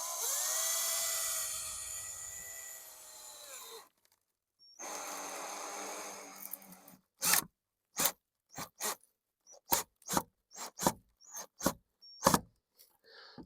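A drill drives a screw through fiberglass on a vehicle dash during an interior rebuild, giving two sustained whirring runs with a gap between them, followed by a series of short, sharp bursts as the screw is pulsed in.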